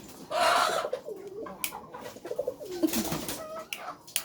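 Pigeons in a shed give soft, low coos in short phrases, close and fairly quiet, with a faint rustle of movement.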